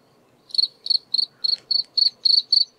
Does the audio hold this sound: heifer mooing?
no